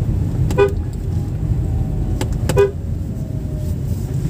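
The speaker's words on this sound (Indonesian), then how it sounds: "selalu biasakan di tikungan itu ngasih klakson" A car horn gives a short toot and then a quick double toot on a winding mountain road, heard over steady in-cabin engine and road rumble.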